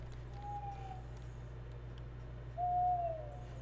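An owl gives two drawn-out tonal hoots at night, the second louder and nearer, over a constant low background hum.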